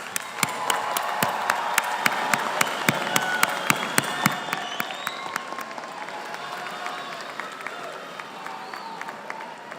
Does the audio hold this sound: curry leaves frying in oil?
no